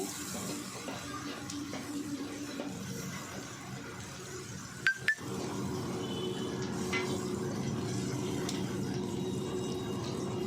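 Breakfast ingredients for a green gram dosa fry in a pan with a steady soft hiss and sizzle, broken by a couple of sharp clinks midway before the frying noise rises slightly, and no talking.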